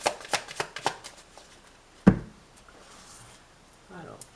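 Tarot cards handled on a table during a reading: a quick series of soft card flicks and slaps, then a sharper tap as a card is set down, with faint rustling after.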